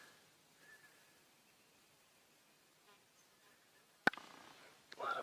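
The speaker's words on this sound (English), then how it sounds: "A lot of bees here." A faint insect buzz drifts through quiet outdoor air, interrupted near the end by a sudden sharp knock and a brief voice.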